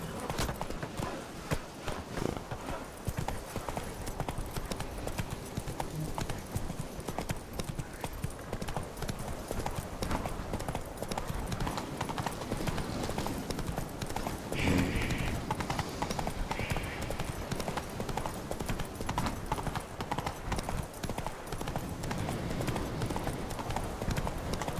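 Horse hooves clip-clop steadily at a walk over ground in the video game Witcher 3, a continuous close rhythm lasting the whole stretch with occasional faint background sounds.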